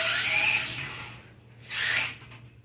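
Losi 1/24 scale brushless short-course RC truck on a straight-line run, a high-pitched electric motor whine that rises, fades, then surges again briefly, with no talk.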